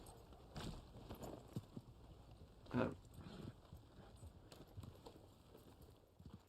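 Hollow hoof clip-clops of a horse walking in Red Dead Online, steady and moderately near, with a brief louder thump midway and a faint ambient bed.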